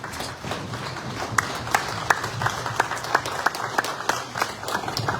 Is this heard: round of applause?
yes